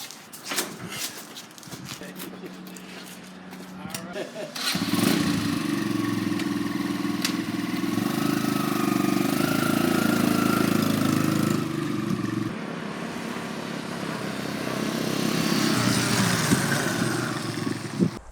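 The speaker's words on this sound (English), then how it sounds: "because we fixed the idle, you don't have to run the throttle to keep it going. exactly. It will idle." A motorcycle engine, its clogged carburetor just cleaned, idles steadily on its own at a low rumble for several seconds, with a brief blip early on and background noise throughout.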